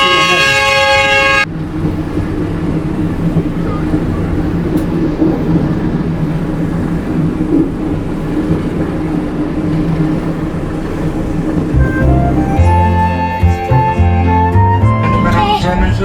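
A CC 201 locomotive on the Siantar Ekspres near Medan sounds its shrill, reedy horn in a long blast at the start, then two more horn blasts near the end over a rumbling, rolling train.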